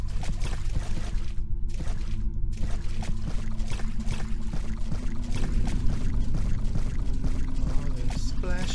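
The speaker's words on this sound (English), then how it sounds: "All the splashes of water" Water splashes and trickles steadily in a dark, wet underground area of a shopping mall in a horror video game, a continuous close wash of sound with faint footsteps.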